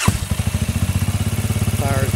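Motorcycle engine on a D250RTB custom bike firing up and settling into a fast, rhythmic idle, close and loud, with a steady chugging pulse and a faint voice near the end.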